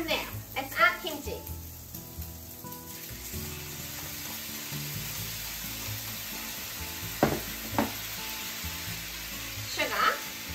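Pork and kimchi stir-frying in a hot pan, a steady close sizzle with stirring and scraping at the start and a few sharp clacks later, while a voice chatters faintly in the background.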